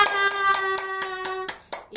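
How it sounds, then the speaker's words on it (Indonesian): Children clapping their hands together at a Sunday school service, a quick run of sharp claps in steady rhythm with a sustained tone ringing underneath, fading out near the end. "Semua tepuk tangan."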